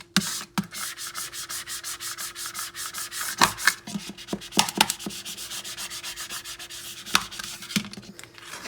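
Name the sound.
burnishing vinyl with a Cricut scraper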